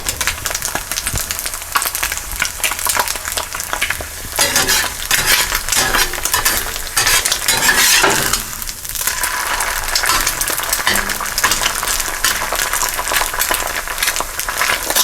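An egg fries in a well-seasoned cast iron skillet, crackling and sizzling steadily and close up, with occasional clinks of a utensil against the pan.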